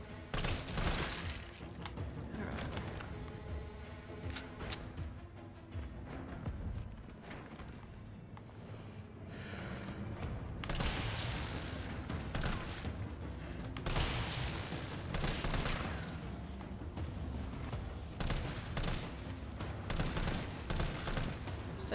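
Rapid bursts of gunfire and reload clatter from a Resident Evil game fill the stretch, dense and continuous with mechanical clicks between volleys.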